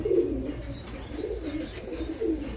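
High-flying pigeons coo close by in a loft where they are nesting on eggs, with low, soft throaty coos rolling in a few bursts over quiet background noise.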